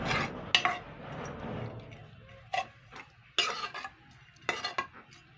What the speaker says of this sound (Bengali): এটা একটু নাড়াচাড়া করে নিচ্ছি।